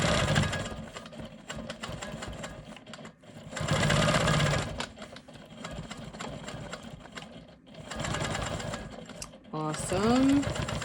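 Quilt Maker Pro 20 sewing machine stitching through quilting fabric, a close rapid mechanical chatter in several bursts with short pauses between, and someone speaks briefly near the end.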